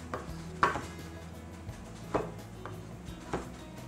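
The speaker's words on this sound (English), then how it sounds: "we'll cut our cherry tomatoes in half and in half again" A knife chops cherry tomatoes on a board with a few separate dull taps spaced about a second apart, quiet and close, with no voices.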